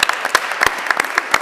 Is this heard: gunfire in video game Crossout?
no